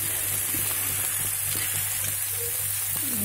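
Green chillies deep-frying in hot oil while being stirred for a cashew and green chilli curry: a steady, dense sizzle throughout, with faint scrapes of stirring and no voices.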